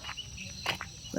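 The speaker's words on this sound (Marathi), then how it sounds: "किती चिमण्यांचा आवाज येतो बघितलं का आवाज किलबिल किलबिल किलबिल" House sparrows chirp in quick, high bursts, a few brief calls close by over a quiet outdoor background.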